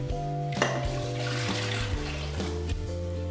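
Water pours steadily into a crock pot for a few seconds, a continuous splashing stream with a low hum and a couple of clinks in the background.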